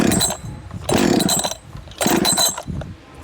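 A Husqvarna 562XP Mark II chainsaw running a Mark I piston cuts through knotty wood with screws near the bottom, its engine loud and close, bogging into the cut in a few bursts and easing between them.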